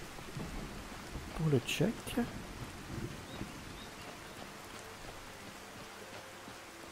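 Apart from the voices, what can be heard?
rain and thunder in the video game Skyrim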